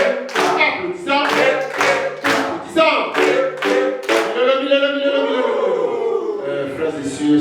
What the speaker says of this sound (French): Applaudissons. Applaudissons.